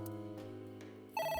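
A phone rings in AI: The Somnium Files, a short electronic ring that stops and then starts again, clear and alone with no talking.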